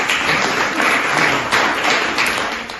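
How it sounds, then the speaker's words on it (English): An audience bursts into steady, dense applause nearby, many hands clapping at an even level for a few seconds. "Give him a round of applause."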